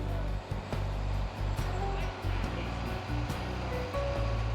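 A concrete pump truck runs steadily while a concrete mixer truck feeds it during a block foundation pour, a loud continuous engine drone and hydraulic hum with rhythmic dips and pulses, close by.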